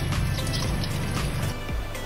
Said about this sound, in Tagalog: kumukuha siya si Net ng tubig kasi nga magpapakulo kami ng tubig para sa kape nga namin